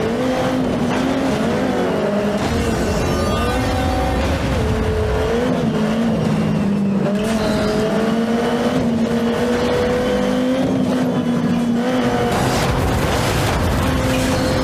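Racing car engines roar loudly and continuously in the MotorStorm video game demo at a 2007 PlayStation press event, with revving pitch that rises and falls as the vehicles accelerate and turn.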